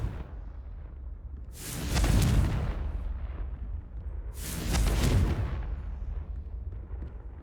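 Two booming blasts from the Confringo spell in Hogwarts Legacy, each a loud broadband burst lasting about a second and fading over a rumbling low tail, spaced roughly three seconds apart.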